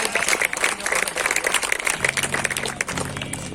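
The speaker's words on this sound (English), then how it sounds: "Keep on giving a round of applause," A crowd gives continuous applause at a college management festival inauguration, with busy clapping over a low background hum and music.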